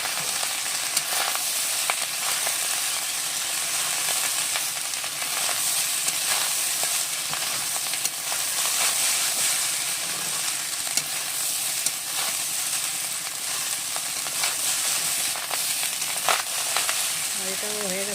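Fried rice with ghee being stirred in a pan: a loud, continuous sizzle and hiss with light scraping and stirring throughout, close up and steady.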